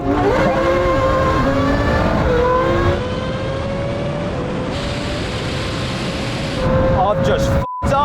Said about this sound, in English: Now we go for rolling race in second gear from around 50.